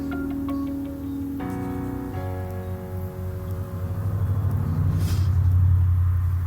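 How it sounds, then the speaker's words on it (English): Steady traffic on a major road next to a house, a low continuous rumble of passing vehicles that swells louder toward the end, mixed with faint indoor ticks and tones. "Sorry if you're hearing traffic. My mom lives right next to a major road."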